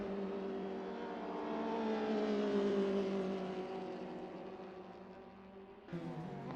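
A Honda race car in a Snetterton sim racing series race, its engine rising in pitch and loudness as it revs, then easing off before a quick sharp rise in tone near the end, with no talk.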